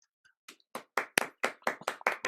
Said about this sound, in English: You can only hear Johnny applauding